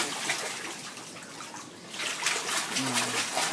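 Water running and splashing into a filling bathtub with a steady hiss, faint voices and a brief child's vocal sound near the end.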